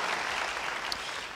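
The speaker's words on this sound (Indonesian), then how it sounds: "Yang percaya, beri tepuk tangan bagi dia." Church congregation clapping, a dense wash of many hands heard briefly and fairly loud, with no one talking over it.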